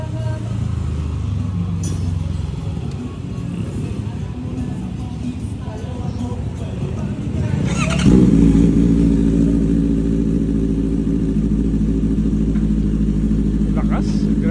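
A brand-new Honda CB650R motorcycle with a freshly fitted aftermarket exhaust pipe starts up after a stretch of low background noise, then holds a loud, close, throaty engine drone with a steady rumbling tone.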